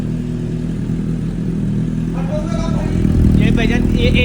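A 750cc Suzuki Hayabusa motorcycle engine runs with a water-throwing fault, a steady close mechanical hum with clattering, growing slightly louder near the end while someone talks over it.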